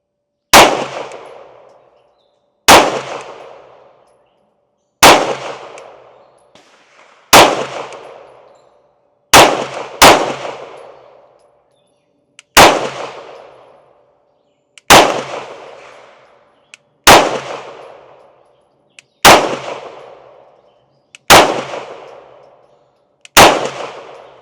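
Canik TTI Combat pistol firing through a full magazine: about eleven loud, sharp shots spaced roughly two seconds apart, each ringing out with a short decaying echo, with no talking.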